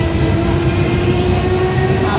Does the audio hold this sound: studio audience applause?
no